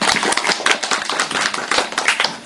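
A small group claps by hand at an Indonesian family-program gathering after a group presentation, quick uneven slaps repeating throughout, fairly close and steady with no talking.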